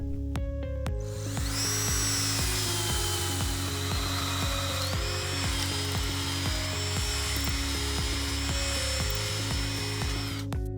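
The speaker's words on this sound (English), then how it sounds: "Using a 3/8 inch ship auger drill bit, drill 3 inches into the end post and all the way through the brace post." A power drill with a 3/8 inch ship auger bit bores into wooden H-brace posts outdoors, a continuous loud whine with a steady grinding tone that shifts pitch partway through.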